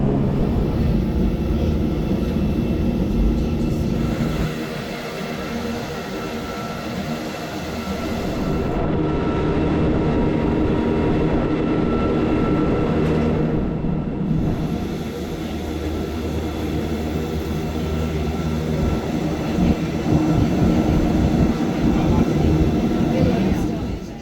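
A Swiss mountain railway train climbs high above the Alps, heading toward Wengen station, with a loud, steady rumble of wheels and carriage that holds continuously throughout, dipping slightly for a few seconds before swelling again.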